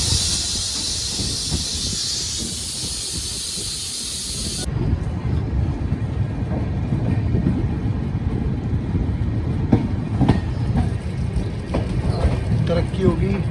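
The Kathgodam Dehradun Express train pulling out of Rudrapur City station, heard from on board: a steady hiss shifts to a low rolling rumble with rattling and clanks as it gathers motion.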